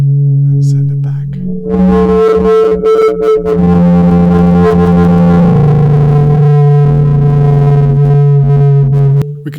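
A no-input mixer feeds back on itself through effects, producing a loud, shifting mess of distorted tones and warbling sustained pitches that slide and stutter, with abrupt cuts and glitches.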